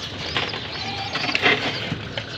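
Pigeons and young squabs coo in a loft, a soft, continuous murmur of calls under a steady hiss of background noise, with a few brief flutters and louder moments throughout.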